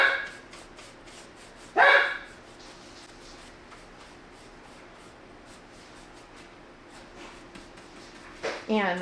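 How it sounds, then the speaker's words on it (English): A dog barks in two short bursts, one early and another near the end, with quiet room noise and faint shuffling in between. "That's my dogs."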